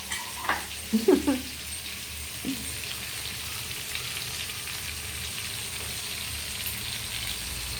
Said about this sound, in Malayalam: ഇതാ എണ്ണയിൽ കിടന്നിങ്ങനെ വേകുന്നുണ്ട നല്ല ഫ്രൈ ആയിക്കൊണ്ടിരിക്കുകയാണ് സംഭവം